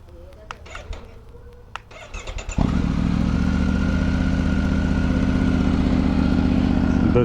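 A Triumph Tiger 900 Rally motorcycle with an aftermarket Zard exhaust starts after some clicks and clanks, then settles into a loud, steady, throaty idle with a raspy exhaust rumble.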